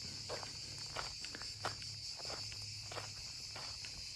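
Crickets chirp in a steady high-pitched drone, with soft scattered shuffling sounds nearby in an otherwise quiet setting at the Apollo Smintheion sanctuary ruins in Gülpınar, Turkey.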